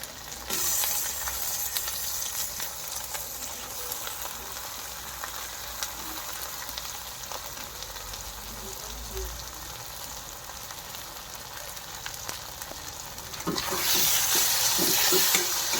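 Fish frying in hot oil in a pan, a continuous broad sizzle held for the whole stretch that swells louder and more crackly near the end, close up and alone without talk.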